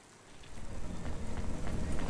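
Rain in the cyberpunk city of the video game Cloud Punk, a steady hiss of falling rain and pattering drops that swells gradually louder, with no voices.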